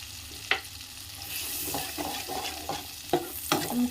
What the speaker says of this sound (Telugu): మిక్స్ అయితే కలుపుకోండి ఒకసారి.